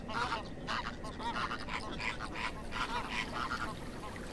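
Thousands of flamingos at their breeding grounds on Lake Tuz, a salt lake in Anatolia, honk and chatter together in a thick, unbroken babble of nasal, goose-like calls that rises and falls in brief surges.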